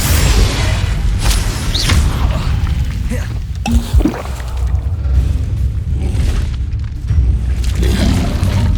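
In Hogwarts Legacy, a Confringo blasting spell explodes amid dense, loud combat noise, with a deep boom and crackling bursts over a constant rumbling bed of game sound and music.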